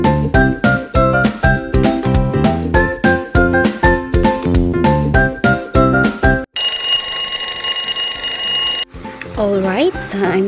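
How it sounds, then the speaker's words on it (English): A timer alarm rings at the end of a ten-second countdown in a children's addition lesson, a loud steady electronic tone lasting about two seconds after background music stops, followed by a voice speaking. "You have 10 seconds to answer. The timer starts now."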